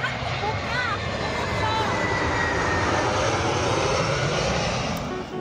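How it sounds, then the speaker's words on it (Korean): An airplane flies overhead in Toronto, a broad steady engine roar that fills the scene at close range, with voices chatting faintly beneath it. "여보 비행기를 봐."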